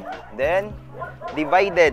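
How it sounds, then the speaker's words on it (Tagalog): Small dog yipping and barking in short, high bursts close by indoors, mixed in with a person talking during a sweatshirt unboxing. "Pasensya na kayo sa aso, mga byan"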